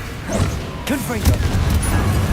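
Confringo blasting spells from Hogwarts Legacy, fiery magical bursts hitting with sharp crashes and booms, several in quick succession over game music and effects while a voice speaks throughout.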